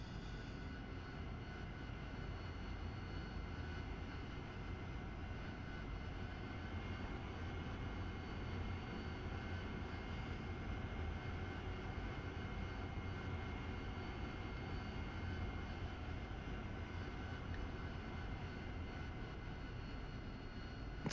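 Steady, unbroken roar of an AV-8B Harrier jet engine during a conventional takeoff, sustained and even with no speech over it.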